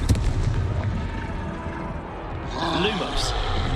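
In Hogwarts Legacy, a Confringo fire spell bursts with a booming blast and a crackling, whooshing tail as voices talk over the combat.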